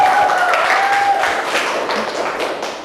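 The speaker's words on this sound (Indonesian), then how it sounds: "tepuk tangan untuk kelompok 1" A classroom group claps for the first group, a brief burst of applause that starts full and gradually thins out over a few seconds, close by, with a faint tone and a little murmur behind it.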